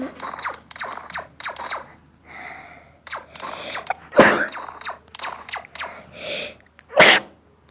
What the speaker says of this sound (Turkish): Çünkü ben önce hapşırdım.